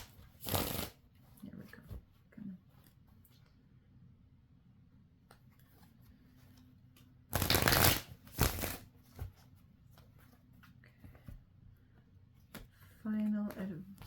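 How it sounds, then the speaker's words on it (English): Tarot cards are shuffled in short, crisp riffling bursts, one early and a louder pair later, with quiet pauses between them and brief speech near the end. "She just doesn't like the sound of the cards shuffling."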